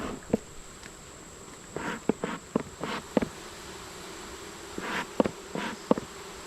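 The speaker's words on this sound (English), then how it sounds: "Let's get these bees down." A dense, steady hum from a crowd of honeybees fills an open hive during an August inspection, with scattered close clicks and taps of handling over the continuous drone.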